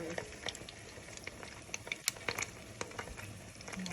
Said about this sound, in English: place your cheese and your salami in and just let it fry